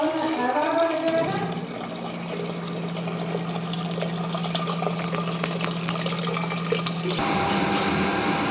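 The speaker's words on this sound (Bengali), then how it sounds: "জল নিচ্ছি অ্যাকোয়াগার্ডের থেকে।" Water runs from an Aquaguard purifier into a container in a home kitchen, a steady pouring stream with a low hum from the unit and a few faint clinks.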